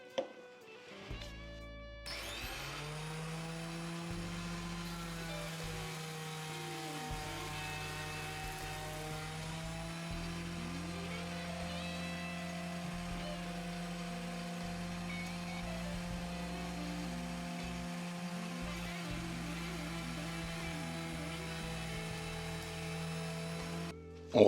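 A machine hums steadily and fairly quietly through a long stretch while a yew fingerboard for an electric guitar is planed down, its tone constant with slight wavering and no speech.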